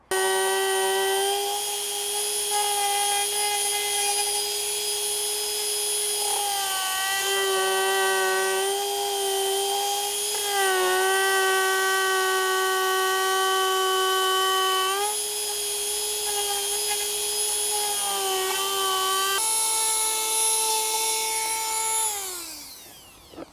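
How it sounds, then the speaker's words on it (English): Dremel rotary tool with a sanding attachment working down a 2016-2021 Mazda MX5 ND bumper: a steady, high electric whine that shifts pitch under load, then winds down at the end. "I used the grinder or the sandpaper tool for the Dremel"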